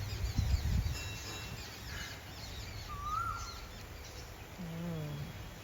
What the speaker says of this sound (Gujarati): સંભળાય છે ને અમારા દરેક બ્લોકમાં સંભળાતો હશે કોયલનો અવાજ